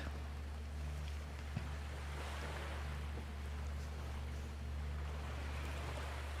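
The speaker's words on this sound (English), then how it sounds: "We just sit on the beach comfortably, listening to the waves." Ocean waves wash softly onto a beach in a faint, continuous surf with a light wind underneath and no voices.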